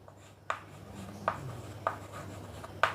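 Pen writing on paper while working a maths problem: faint scratchy strokes with a few sharper taps at intervals, close and quiet, no speech.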